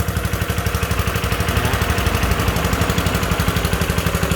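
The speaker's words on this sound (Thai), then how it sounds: "เครื่องดีสุดยอดเลยครับฮันด้าแท้เลยครับ ตัวนี้เป็นเครื่องยนต์มือสองนะครับ" A used Honda engine on a pesticide sprayer with a belt-driven pump runs steadily up close, putting out a loud, rapid, even chugging throb with no break.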